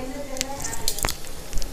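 Curd is spooned into a hot pan for Dindigul mutton biryani, giving a few soft wet squishes and drips over a faint background hum.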